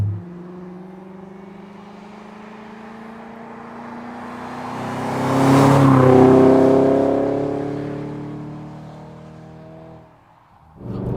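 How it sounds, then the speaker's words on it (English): A Volkswagen Passat W8 engine revs up steadily to a loud, strained peak around the middle, then the pitch and volume fall away as it backs off. "it's an engine that you need to rev to get the best from"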